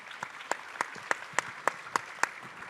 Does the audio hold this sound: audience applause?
yes